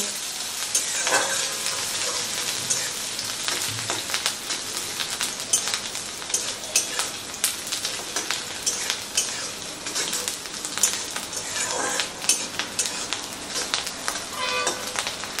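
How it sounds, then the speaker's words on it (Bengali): Small chopped capsicum with green chilli, ginger and garlic frying in a pan, a steady dense sizzle with occasional spatula scrapes and clinks throughout, fairly loud and close with no voices. "এগুলোকে হালকা করে একটু ভেজে নেব"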